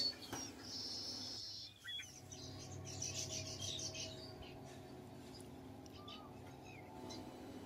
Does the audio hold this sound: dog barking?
no